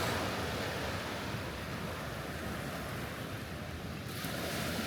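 Early-morning Indian Ocean surf washing in a steady, loud roar, with wind buffeting the microphone and no other sounds standing out.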